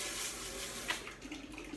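Cleaning machine filled with hot soapy water spraying into a commercial fryer, a steady rushing wash of water throughout, close and moderately loud, with a brief sharper splash near the middle.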